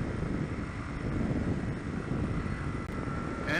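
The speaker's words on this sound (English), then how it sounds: "Engine is running" Small propeller aircraft engine droning steadily in flight in cold winter weather over frozen lakes, a constant close cockpit roar with some wind buffeting throughout.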